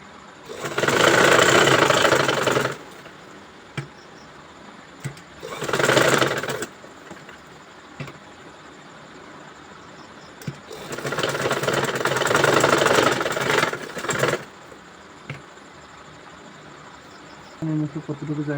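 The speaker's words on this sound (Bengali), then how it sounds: "এই টুকরো কাপড়টার উপরে সর্বপ্রথম সেলাই করে নিতে হবে" A sewing machine stitches a piece of fabric onto a kameez neckline in three loud, rattling bursts: a short run, a brief one, then a longer run, with quiet pauses between them.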